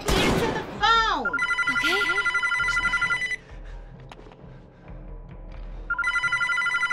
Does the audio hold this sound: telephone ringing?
yes